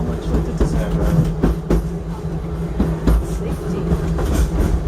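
Train wheels clickety-clack steadily over rail joints aboard the Wildlife Express, a park train at Disney's Animal Kingdom, with a loud, close rumble and a regular rhythm of clacks underneath.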